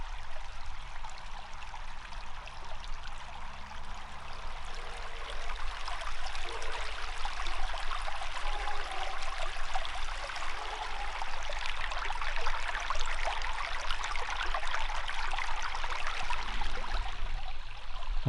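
A small creek in a quiet small-town field flows steadily with a soft, continuous trickle and gurgle, close by and even in level throughout.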